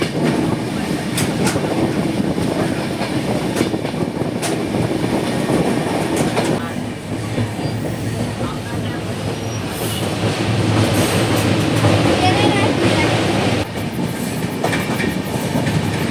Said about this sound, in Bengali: এখন train মন্দারতিসা junction railway station cross করল।